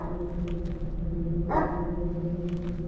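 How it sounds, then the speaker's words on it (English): A dog barks once in a dark forest horror game, a short bark standing out over a steady low droning ambience. "A dog."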